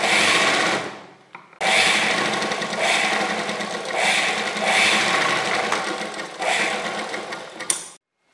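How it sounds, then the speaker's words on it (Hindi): An electric sewing machine stitches the fabric of a kurti in a close, loud mechanical whir, running in long bursts with a brief stop after the first second and speed swells throughout before halting near the end. "अब हम इसको यहाँ पर रखकर सब तरफ से ऐसे सिलाई लगा देंगे"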